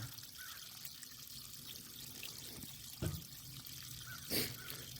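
Water trickles and splashes steadily during a rinse at a chemistry lab bench while preparing potassium octacyanotungstate, with a couple of brief louder splashes over a constant low background hiss.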